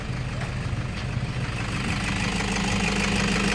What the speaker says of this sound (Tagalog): Tingnan ulit natin yung andar ng kanyang makina.